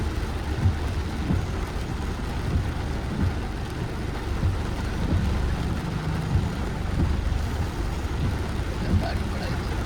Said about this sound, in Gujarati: આવો વરસાદ છે